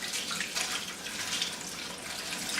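Running water rinses seeds off roasted peppers over a colander in a kitchen sink, a steady close hiss of flowing tap water with no talk.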